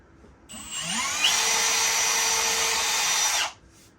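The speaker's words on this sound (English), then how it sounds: "we'll pre-drill a little hole" A power drill whirs up close for about three seconds, a steady high-pitched whine as it pre-drills a small hole in wood, then stops abruptly.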